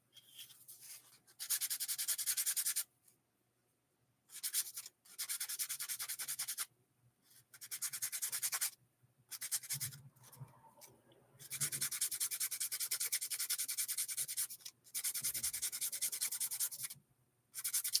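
Steady passes of 120 grit sandpaper rub back and forth in long bursts of several seconds, broken by short pauses, close and fairly loud with no talking.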